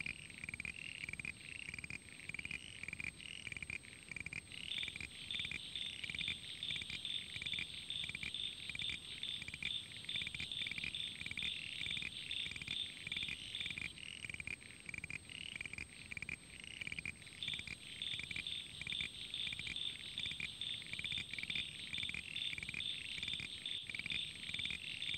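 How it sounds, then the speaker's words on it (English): Common froglets (Crinia signifera) call continuously in a dense chorus at a Murray Valley site, a steady layer of rapid high, chirping notes with louder bursts from nearer frogs, and no voices. "Common froglet, Crinia signifera."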